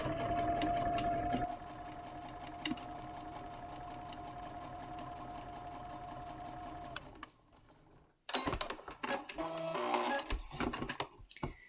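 A sewing machine stitching a quarter-inch seam on a nine-patch quilt block, a steady whirring hum that runs for several seconds, slows, pauses, then resumes in shorter bursts with clattering handling noises.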